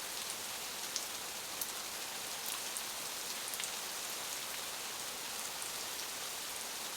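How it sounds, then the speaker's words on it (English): Sleet patters steadily during a winter snow storm at a mountain camp with a car tent, a dense, even hiss of small icy pellets striking surfaces nearby, with no voices. "That sounds like sleet."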